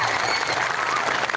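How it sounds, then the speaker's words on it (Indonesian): Audience at an Islamic sermon gathering of Ciamis santri breaks into brief clapping, a dense burst of many hands close up that continues without pause. "Tepuk tangan dulu bang."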